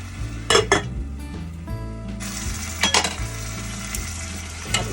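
Vegetables and cream being stirred in a pot of garden-vegetable stew, with several bright metal clinks of utensil on pot over a low steady simmer and hum, close and alone.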